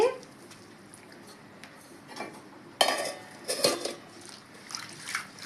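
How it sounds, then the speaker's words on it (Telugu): Curry leaves are rinsed twice in water and tipped into a perforated bowl, giving quiet splashing with scattered metallic clinks and a couple of louder clattering bursts, close by. "ఇలా 2 సార్లు శుభ్రంగా కడిగి బొరల గిన్నెలు వేస్తామండి."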